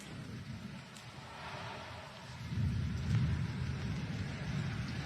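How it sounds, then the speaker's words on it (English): Thunder rolls low and steady over falling rain on the Oregon coast, a distant rumble that swells midway and keeps grumbling beneath the hiss of rain. "Thunder is roaring."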